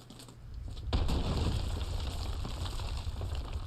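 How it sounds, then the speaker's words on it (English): An explosive charge goes off in GTA Online, a sudden heavy blast that rolls into a sustained, loud rumble with crackling debris continuing for several seconds. "Plant the explosive and let her rip."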